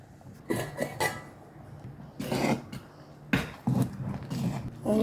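A lid goes onto a pot of whole green gram cooking for sweet kanji, with several short metallic clinks and knocks in uneven bursts, close by and moderately loud, with no speech.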